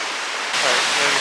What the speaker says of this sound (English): This is our first waterfall that we're witnessing today.